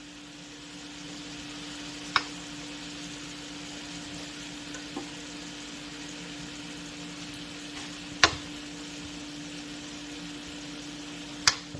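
Beef chunks searing in a hot pan for stew, a quiet steady sizzle with a low hum beneath and a few sharp clicks or taps scattered through.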